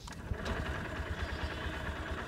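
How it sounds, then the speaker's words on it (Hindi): A 2025 Honda SP125 motorcycle idling after a quiet start through its ACG starter motor, giving a steady, low, pulsing engine thrum at close range with no talk over it. "जब मैं बाइक को स्टार्ट कर रहा हूँ ना यहाँ पर ACG स्टार्टर मोटर मिल रहा है"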